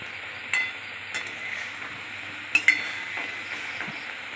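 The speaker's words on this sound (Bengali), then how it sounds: "এবার নাড়তে থাকলাম ভালো করে, চিনিটা ভালো করে মিশিয়ে নিলাম।" Mango raisin chutney with sugar being stirred in a pan, a soft low sizzle underneath a few light spoon scrapes and clinks against the pan, close and fairly quiet.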